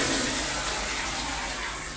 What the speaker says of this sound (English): when I flush that toilet, we can see all the water's flowing by it